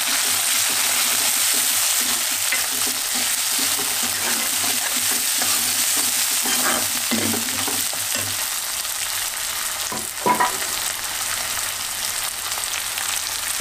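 Onions and tomato frying in a pan for sambar give off a constant close sizzle, with spoon stirring and a couple of sharper clatters partway through, no speech.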